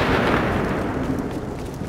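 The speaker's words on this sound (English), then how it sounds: "Somebody just launched grenades in there." Grenade explosions in the video game The Division, a loud, sustained booming roar with rumbling low end that fills the short moment without any speech.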